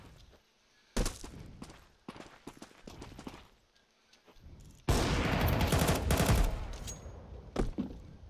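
Gunfire in a competitive first-person shooter game, sharp isolated shots early followed by a dense sustained burst of rapid fire, loud and close.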